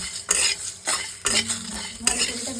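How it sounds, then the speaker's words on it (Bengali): Whole spices dry roasting in a pan for homemade masala powder, with several distinct scraping stirs of a metal spoon across the pan over a faint sizzle, close and clear with no voices. "ভালো করে এটা ভেজে নিয়ে ড্রাই রোস্ট করে নেবো"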